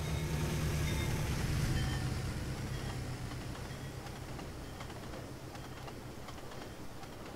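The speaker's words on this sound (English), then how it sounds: "here comes Amtrak 21 flying past NS Junction." An Amtrak passenger train in the Trainz video game speeds past a junction, producing a loud, steady rumble and rolling rail noise that slowly fades as it goes by, without speech.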